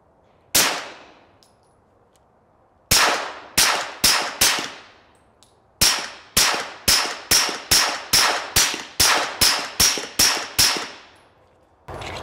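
A suppressed Glock Model 45 pistol firing S&B ammunition outdoors, loud sharp reports with metallic ring, first a single shot, then three spaced shots, then a steady string of about a dozen rapid shots.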